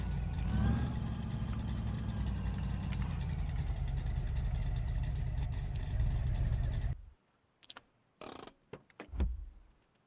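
A ramp truck's engine idles with a steady low rumble for several seconds, then cuts off abruptly, leaving near silence broken by a few scattered clunks and knocks.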